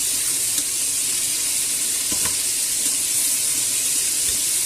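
Pork ribs browning in hot oil in a pan for a Spanish white-wine rib dish, giving a steady, close, loud sizzle with a few faint clicks and stirs, no talking.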